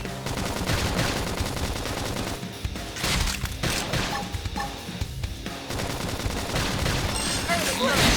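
Rapid gunfire bursts from the Xenoblade Chronicles X Remaster video game, loud and continuous over a dense mix of game music and battle effects.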